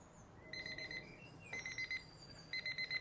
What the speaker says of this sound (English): that was me with an official timer